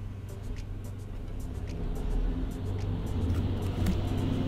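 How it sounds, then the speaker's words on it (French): A truck passes close by on a road, a steady loud low rumble swelling toward the middle and end with no talk. "j'ai un camion qui est passé à 3 mètres de moi"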